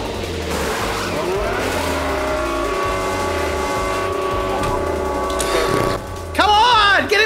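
An F1 video game race car idles and revs through a final pit stop, the engine drone holding steady before a sharp whine and tire squeal as the car pulls away.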